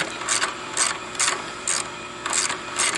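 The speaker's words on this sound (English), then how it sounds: "undo these two bolts." A ratchet works bolts loose on a 2015 KLR 650 motorcycle, with about six evenly spaced clicking bursts at a steady rhythm, close and clear, and no one talking.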